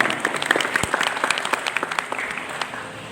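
An audience at a Pancasila month gathering in a hall claps for about three seconds, a brisk, even patter of many hands close by, with no voices over it.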